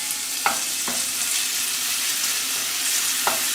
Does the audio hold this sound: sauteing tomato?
yes